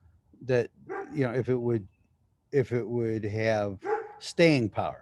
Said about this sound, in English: Sorry for the dog barking next door.